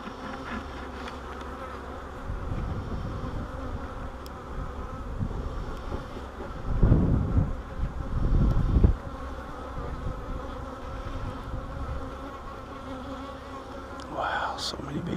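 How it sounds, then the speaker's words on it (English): A swarm of honey bees hums continuously around hives being split, a dense droning buzz that swells louder in the middle and holds at a steady level throughout. "Wow, so many bees."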